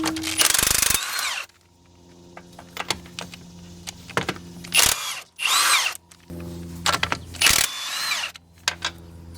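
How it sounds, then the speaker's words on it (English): A power tool whirs in repeated short bursts as nuts come off a hydraulic wheel motor on a Wright Stander ZK mower, loud and close, with mechanical clunks and pauses between runs. "we're just going to take these nuts off of the motor"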